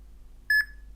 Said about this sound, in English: Made a horrible beeping noise